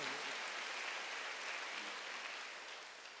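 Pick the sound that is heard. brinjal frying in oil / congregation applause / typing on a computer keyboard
congregation applause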